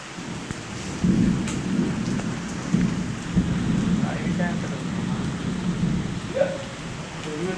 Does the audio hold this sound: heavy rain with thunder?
yes